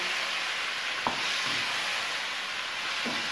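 Chopped or ground tomatoes being stirred into chicken and karela (bitter gourd) masala frying in a pan, a steady close sizzle with a few soft scraping stirs.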